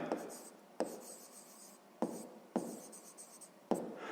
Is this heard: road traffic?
no